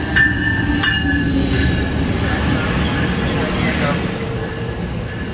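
Amtrak train 573, led by locomotive 90225, rolls steadily through Fullerton station with a continuous rumble and faint wheel squeal, while a voice talks over the passing cars.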